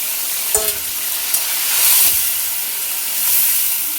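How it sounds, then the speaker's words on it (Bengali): A little water splashed into a pan of frying chicken for a Bengali chicken curry, giving a steady, close sizzling hiss that swells and eases as the steam rises, with a few small clinks near the start. "এই গামলাটা দিয়ে সামান্য একটু জল দিয়ে দেবো"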